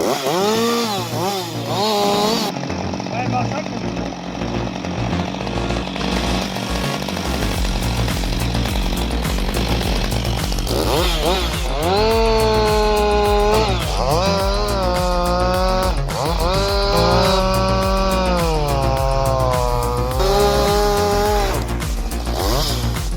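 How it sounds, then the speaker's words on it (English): A Husqvarna 560 XP chainsaw cuts through 25-foot trees toppled by a snowstorm, its engine close and loud, idling low then revving repeatedly into high whining cuts with rising and falling pitch. "With the Husqvarna 560 XP chainsaw, the worker skillfully frees 25-foot trees toppled by a snowstorm"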